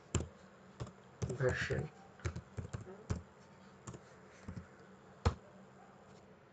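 Clicky keystrokes on a computer keyboard typing a short command at a command prompt, a quick irregular burst of taps near the mic with a few isolated key presses after, and a brief spoken word among them.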